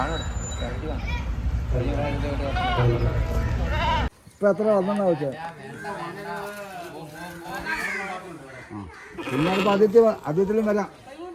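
Goats gathered as offerings for an annual feast at a church in Kerala bleat repeatedly amid a busy crowd, their wavering cries rising over steady chatter and background noise.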